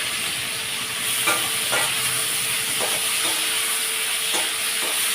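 Onions and three medium tomatoes fry in a pan with a loud, steady sizzle and hiss, broken by several scraping stirs of a spoon. No one speaks.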